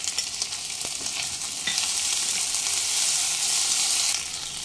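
Ginger garlic paste and water-soaked cashews frying in a hot pan for butter chicken, giving a steady, bright sizzle that swells slightly toward the end, close and loud with no voices.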